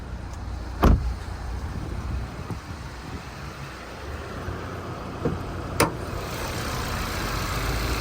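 A 2020 Hyundai i30 N Line Premium idles steadily with the bonnet up, giving a smooth, even low hum broken by two sharp clicks.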